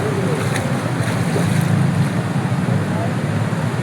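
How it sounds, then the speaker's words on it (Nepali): Vehicles drive through floodwater on a Kathmandu street after heavy rainfall, giving a steady, loud rushing wash of water and engine noise with wind buffeting the microphone throughout. "पानीमा कुदिरहेछ गाडीहरू"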